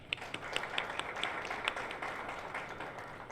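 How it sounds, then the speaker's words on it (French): An audience at a DGI ceremony on integrated financial management in Haiti applauds the director general with soft, steady, distant clapping and a few crisper claps near the start. "Nous vous prions de l'applaudir encore."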